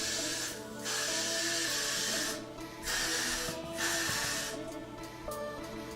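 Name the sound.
hair freeze spray spraying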